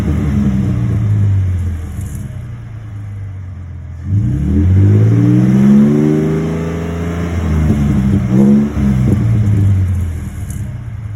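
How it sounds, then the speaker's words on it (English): A 2018 Ford F-150 3.3L non-turbo fitted with a MagnaFlow 12589 exhaust is revved repeatedly from about six feet away, its deep idle rising into loud sweeping throttle blips and falling back to a rumbling idle. "this is the MagnaFlow exhaust"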